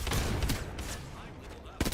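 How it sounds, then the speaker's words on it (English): Gunfire from a video game shooter, a few sharp broadband shots near the start and a louder burst near the end over a dense, busy game mix, with speech-like sounds under it. "I am taking fire, friends."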